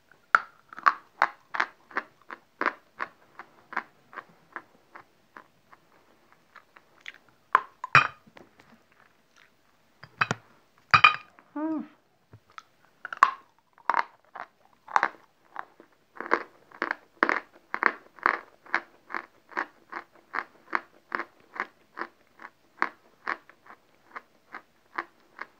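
Close, dry crunching as pieces of hard chalk are bitten and chewed, a long run of rapid rhythmic crunches with brief pauses and a few louder bites in the middle, no talking.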